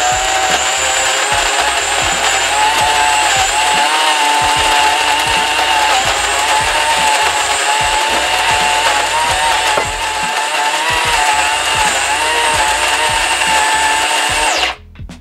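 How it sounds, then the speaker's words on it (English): Electric coffee grinder grinding a morning batch of dark coffee beans, a loud steady high whirring buzz with a gritty crunching texture, running continuously up close and then cutting off at the end. "the grinder has done its job"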